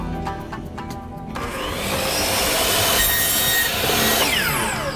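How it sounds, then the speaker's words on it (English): A compound miter saw spins up and bites into a piece of raw bamboo, its loud, close motor whine joined by a rough, grinding cut that holds steady through the stroke. "I'm going to use my trusty compound miter saw, also known as a chop box."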